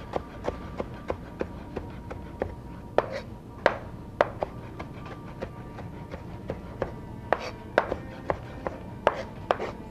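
A knife chops fresh cilantro on a cutting board in quick, steady, close taps, with a few heavier thumps between them and no one talking.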